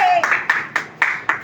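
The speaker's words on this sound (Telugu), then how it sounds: "క్లాప్స్ కొట్టండి, క్లాప్స్ కొట్టండి, ఎంకరేజ్ చేయండి" An audience claps in a brisk, even rhythm, five or six loud sharp claps close by, with voices mixed in.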